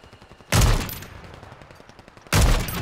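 Video-game gunfire comes as two loud, close, booming shots about two seconds apart, each trailing off into a rumbling decay.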